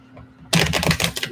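Tarot cards being shuffled, a fast, close run of crisp riffling clicks beginning abruptly after a quiet moment.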